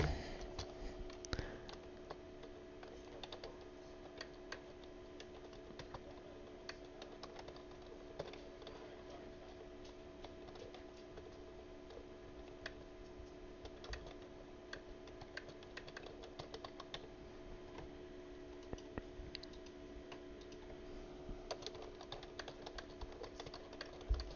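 Rapid clicking of computer keyboard keys, quiet and close, tapping in irregular bursts over a steady low electrical hum during an iRacing session.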